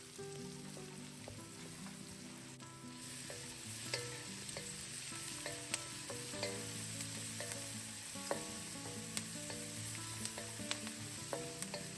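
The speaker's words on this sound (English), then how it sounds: "let the pork sausage sizzle and cook through on one side while allowing the vegetables to continue to cook on the other side" Chinese pork sausage and vegetables frying in a pan for egg fried rice, a quiet, steady sizzle with scattered small pops and occasional utensil ticks, under a faint humming tone throughout.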